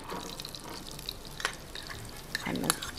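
Onion frying in half a spoon of ghee and two spoons of oil in a pot, a steady soft sizzle with a few scraping stirs, a louder bubbling burst near the end.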